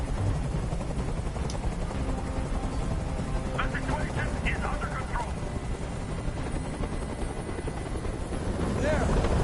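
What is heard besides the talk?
helicopter hovering overhead, from video game Detroit: Become Human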